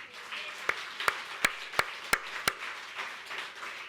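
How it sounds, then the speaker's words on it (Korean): A church congregation applauding during a sermon, heard as about six sharp, evenly spaced claps standing out over a soft background of scattered clapping, moderately close and fading toward the end. "믿으시면 감사 박수 올려보세요"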